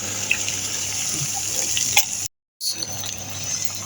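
Coconut milk poured into frying spices in a pan gives a steady, close wet sizzle with light stirring, cut by a short silent gap before the bubbling returns.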